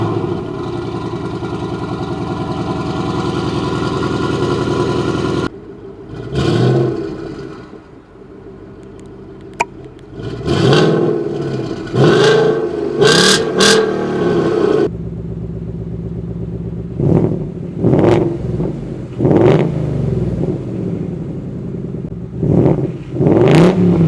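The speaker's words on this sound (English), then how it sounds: "the owner did put a aftermarket H-pipe. So this car sounds really good." A Ford Mustang Mach 1 with a Gen 3 Coyote V8 and an aftermarket H-pipe, idling steadily and then revved in a series of sharp, loud bursts that fall back between blips, heard close and alone.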